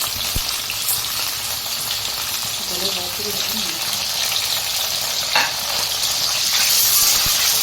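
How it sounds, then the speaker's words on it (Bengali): Pieces of pointed gourd fry in hot oil in a pan for shukto, giving a close, steady sizzle with faint stirring scrapes and a brief clatter, without any talking. "এরকম করে এক একটা সবজি দিয়ে আমি ভেজে তুলে নেবো আলাদা আলাদা করে"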